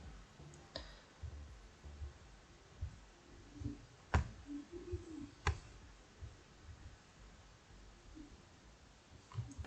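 Sharp, sparse mouse clicks while selecting parts in Renderforest, a handful of isolated ticks several seconds apart over a quiet room hum.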